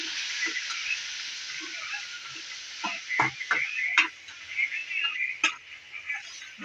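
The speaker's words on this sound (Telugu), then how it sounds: "రెండు రెమ్మలు కరివేపాకు రెండు టమాటాలు చన్నగా కట్ చేసుకొని వేసుకోవాలి బాగా మగ్గాల" Curry leaves and chopped tomatoes cooking in a pan in a Telugu kitchen, with a soft steady sizzle under scattered clicks and stirring taps, close and fairly quiet, no talk.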